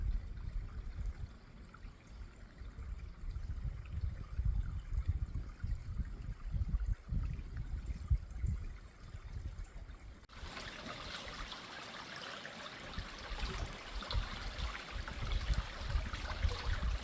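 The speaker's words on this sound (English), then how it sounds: "this is a fish-bearing creek" A fish-bearing creek flows through a marshy area at the end of a bay on the north shore of Malcolm Island, giving a steady close trickling and rushing of water that grows brighter and fuller partway through.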